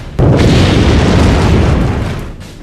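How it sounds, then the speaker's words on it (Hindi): A huge, loud explosion boom marks a nuclear bomb blast. It erupts suddenly with a dense roar that dominates the whole range and then slowly fades over a couple of seconds, with no voices. "न्यूक्लियर बम के चलते एक बड़ा धमाका होता है।"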